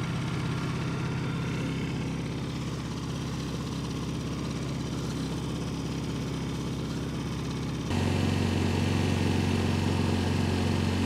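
A Honda EU1000i inverter generator engine running with a steady, close droning hum that jumps to a louder, higher-revving tone near the end as it reaches max RPM.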